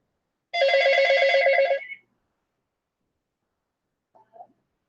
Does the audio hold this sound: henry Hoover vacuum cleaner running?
no